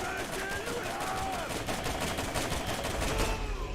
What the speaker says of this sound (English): He has a unique SMG that fires 4 rounds per shot